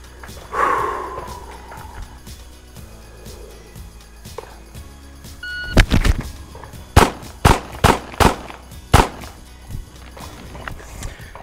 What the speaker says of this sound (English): draw, fire four to the center mass, then one to the face circle